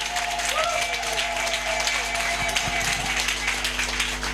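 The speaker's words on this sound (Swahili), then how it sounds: "Piga makofi yako." Congregation clapping hands during a church service, a continuous diffuse patter of many hands under a steady background hum and faint tones.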